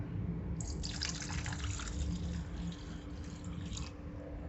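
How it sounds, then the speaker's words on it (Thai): About 200 ml of plain water is poured from a container into a dish of sauces for baked shrimp with glass noodles, giving a steady splashing stream for roughly three seconds over a low background hum. "ใส่น้ำเปล่าจ้า200 ml"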